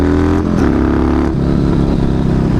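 A recently bought motorcycle with plenty of power revs up close and loud, its engine note climbing and shifting as it accelerates in a steady, continuous roar.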